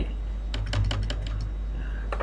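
Several computer keyboard key presses, a quick cluster of sharp clicks followed by a single later tap, close and fairly clear over a low steady hum with no talk.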